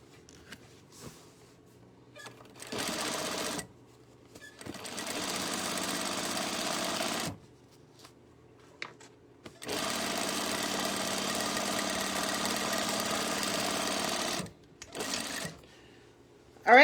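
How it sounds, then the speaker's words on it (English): A sewing machine restitches a tote bag seam in several separate bursts of steady, close whirring, with quiet pauses between runs. "I'm just going to turn it and go over the exact same stitch"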